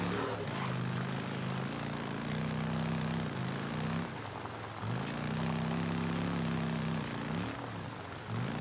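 Motorcycle engine in the game Days Gone, a steady droning hum with repeated rising revs as the bike accelerates, holding a constant loud level throughout with no talk.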